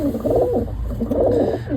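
Pigeons in a loft giving low, throaty coos close up, two rolling phrases in quick succession.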